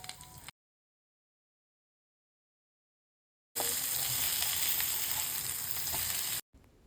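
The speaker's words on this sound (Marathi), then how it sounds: "तर आपण ते मॅरिनेट केलेले पापलेट फ्राय करायला ठेवूया" Marinated pomfret fish fries with garlic in a pan, a dense, even sizzle heard close for about three seconds after a short burst and a stretch of silence.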